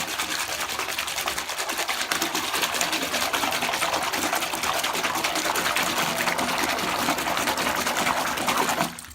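A Transfusion bath bomb fizzes and bubbles in bathwater, a dense continuous crackling effervescence with a faint watery gush, close and steady for several seconds before stopping, with no talk.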